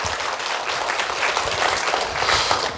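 A church audience at a missions conference in Honolulu breaks into a full, continuous round of encouraging applause, many hands clapping close and loud with slight swells in intensity, and no voices on top.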